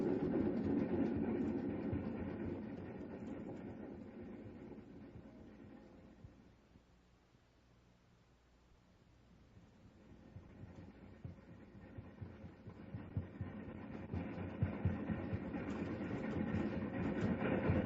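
A steam train runs along the rails as a radio drama effect, a steady rhythmic chugging and clatter that fades nearly away midway, then swells back louder and closer.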